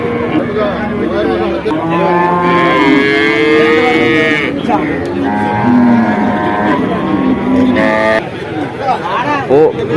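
Buffaloes low repeatedly at the Vaniyamkulam cattle market, loud and near, with long drawn-out calls over a background of crowd chatter and voices.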